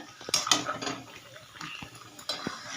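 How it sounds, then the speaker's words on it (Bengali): A spoon stirs jujube pickle with ground roasted spices in a pan, with close scraping and clinks over a faint sizzle, busiest at the start. "এটা আর আট থেকে দশ মিনিট মতো ভালো করে এটাকে নেড়ে নেব"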